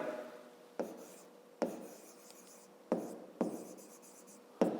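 A pen scratches on paper while a fifth-grade math exercise is written out: quiet, close strokes in short rhythmic bursts, each starting with a light tap and trailing off, repeating about every second.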